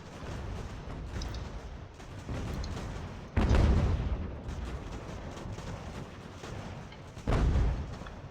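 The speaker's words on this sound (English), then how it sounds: "our artillery putting in some work" Artillery fires in the strategy video game Ultimate General: American Revolution. Two heavy booms stand out above a rumbling background of distant battle fire.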